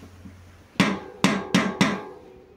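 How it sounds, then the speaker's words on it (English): A rubber mallet knocks a bicycle hub bearing cup into place with four sharp, close blows, the last three in quick succession. "a rubber mallet to knock it in place"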